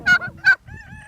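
Farm chickens on a biodynamic farm give two short, harsh, nearby calls, followed by a longer, wavering, honking note. No voices.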